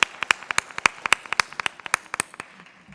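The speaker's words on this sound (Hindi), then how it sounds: "जोरदार तालियों से स्वागत कीजिए शिखा अवधेश जी का" Sparse, distinct hand claps from a small audience at a kavi sammelan poetry gathering in Pune, Maharashtra, welcoming a poet to the stage: irregular sharp slaps close by, thinning out toward the end.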